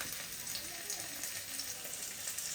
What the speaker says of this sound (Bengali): কুমড়ো ভাজা বসিয়েছি